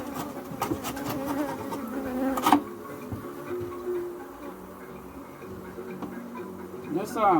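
Bees buzz steadily around the outside of a beehive while an old frame is being cycled out, with rhythmic ticking and tapping mixed in and someone speaking nearby.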